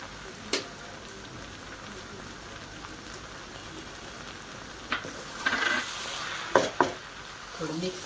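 Browned onions with kasuri methi stirred in a pan for a hotel-style gravy, giving a soft steady sizzle with a few louder scraping strokes of the spoon near the end.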